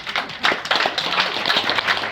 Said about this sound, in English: give yourself a round of applause because you're a thoroughly great bunch of people